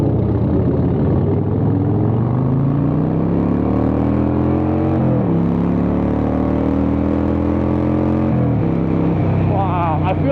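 A Harley motorcycle engine drones on a morning ride, its pitch rising and falling with shifts and throttle, under steady muffled wind rush, loud and continuous.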